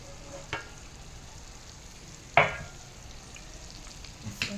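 Mutton kheema frying in a pan with salt, chili powder and coriander powder: a faint, steady sizzle with a few sharp clinks of stirring scattered through, no voices.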